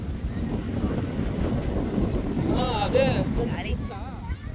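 Steady wind gusts buffet the microphone at Kite Beach in Dubai, a broad continuous rush by the sea with voices talking over it.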